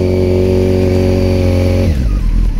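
A motorcycle engine runs loud and close at a steady high rev, then drops sharply as the throttle is released and settles into a rough, lower running note. Nobody talks.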